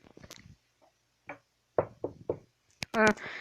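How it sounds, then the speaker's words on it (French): Several sharp knocks on a door in a story game, a cluster of three close raps after a couple of fainter isolated ones, with soft voice sounds at the start and a brighter burst of talk right after. "Quelqu'un frappe à la porte."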